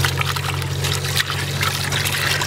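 Running water pours and splashes over pork ribs being washed in a basin. The stream is close and continuous, with a steady low hum underneath.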